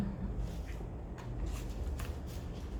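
Playing cards being shuffled during a card reading, giving soft, papery riffling bursts at low level over a steady background hum.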